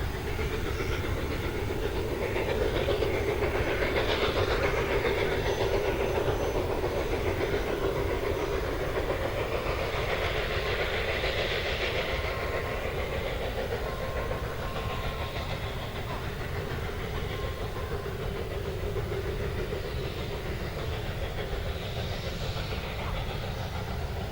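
A narrow gauge train climbing through maize land rumbles and clanks continuously at a steady pace, engine laboring under a constant rolling din with faint rhythmic clatter.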